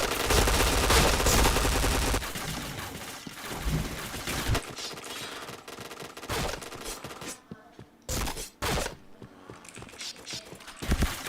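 Gunfire from a shooter video game: dense, loud rapid-fire bursts for the first few seconds, then scattered sharp shots separated by brief pauses.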